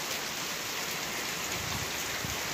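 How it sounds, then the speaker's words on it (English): Steady rain falls outdoors and drips off the edge of a roof, a close, continuous wash of patter with no talking. "See kind of this rain out here. See, look at that. I got some dripping off the roof there."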